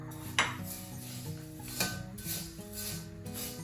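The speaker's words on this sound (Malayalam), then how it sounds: "നന്നായി ചൂടായ ചട്ടിയിലോട്ട് 2 ഗ്ലാസ് ഉഴുന്നിട്ട് വറക്കാൻ പോവുകയാണ്" Two glasses of washed urad dal are dry-roasted in a hot pan. A utensil scrapes and rattles against the pan in faint, uneven strokes, with a few sharper clinks.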